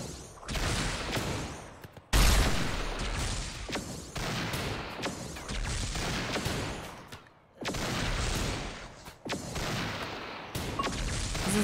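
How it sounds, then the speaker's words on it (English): Colonists' guns fire at zombies in RimWorld, repeated sharp shots and bursts in several loud clusters separated by brief gaps, with no voices. "Our colonists are getting a little bit better at their shooting skills. Taking out all the zombies with ease."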